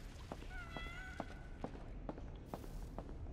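A cat in the adventure video game Iris.Fall gives a single short meow, followed by a steady series of soft game footsteps thudding at regular intervals over a low ambient backdrop.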